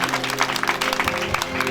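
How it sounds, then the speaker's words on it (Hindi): An audience at a Chhattisgarhi Ramayan bhajan gathering breaks into brisk, dense clapping, many hands at once, steady and fairly close for under two seconds. "एक बार बजाओ अपन छत्तीसगढ़ महतारी के लिए जोरदार ताली।"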